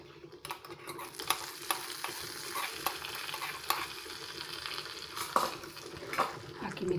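Curry leaves and a hot oil tempering are stirred into a bitter gourd gojju, giving a steady sizzle with scattered spoon scrapes and clinks against the pot, close and moderately loud, with no talking.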